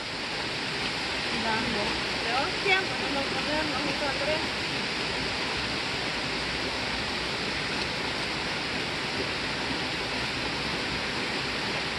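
Steady broadband rush of a river flowing over rocks, constant and fairly loud close by, with faint voices briefly audible early on.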